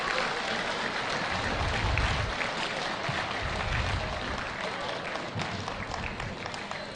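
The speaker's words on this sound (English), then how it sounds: "let's have a big round of applause for all of the teams that were competing here today" Crowd at a school robotics qualifier clapping for the competing teams, a moderate, somewhat distant and diffuse round of applause that carries on steadily with slight swells.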